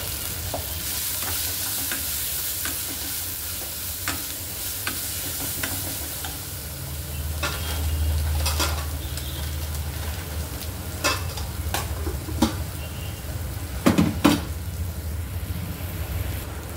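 Dill greens stir-fry in a pan with a steady crackling sizzle, while sharp spoon-against-pan scrapes and clacks grow busier toward the end; close-up, no voices.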